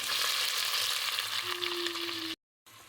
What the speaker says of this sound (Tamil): கடுகு உளுந்தம் பருப்பு நல்லா பொரிஞ்சதும் வெங்காயம் கொத்தமல்லி கருவேப்பிலை போட்டுக்கணும்